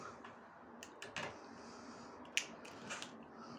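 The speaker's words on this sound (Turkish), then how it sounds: "Makasla kesiyorum." Scissors snip through adhesive foil being applied to a kitchen cabinet, with a few faint, close cuts and crinkles spaced irregularly over a quiet room background.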